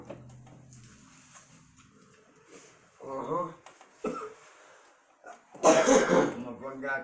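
Coughing and throat clearing from a person smoking Willie's Reserve Sunshine Lime cannabis, several rough bursts close up with a loud harsh fit near the end, amid breathy sounds and some talk.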